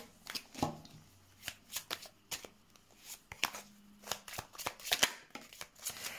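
Tarot cards being shuffled and drawn by hand, a string of quick papery riffles and slaps in uneven bursts, close and clear with no talking.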